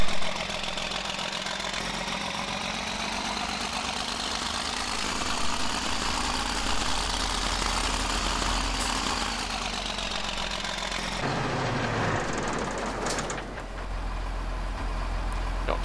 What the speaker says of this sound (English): It sounds like a smaller tractor.